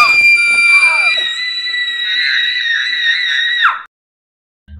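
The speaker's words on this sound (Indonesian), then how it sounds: "tiba-tiba Esther berteriak" A girl's piercing, sustained scream from the 2009 horror film Orphan, very loud and close, holding a shrill tone for several seconds before breaking off abruptly into silence.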